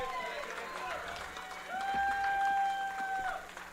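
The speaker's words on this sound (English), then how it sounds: "As he gets an ovation from his crowd" Crowd applause and cheering for a pitcher at a college baseball game, a steady wash of clapping that swells toward the end, with a loud announcer-style voice and a sustained whistle-like tone over it.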